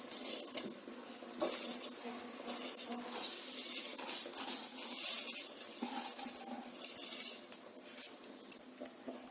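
Water boiling vigorously in a pot on the stove for Dindigul thalapakattu chicken biryani, a dense, steady rushing bubble with occasional surges, close and fairly loud, with no talking.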